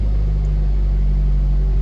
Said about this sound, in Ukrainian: Двигун автомобіля